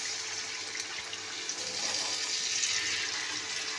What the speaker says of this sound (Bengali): এর মধ্যে একটু জল দিয়ে দেবো